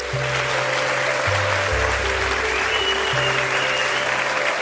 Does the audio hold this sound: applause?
yes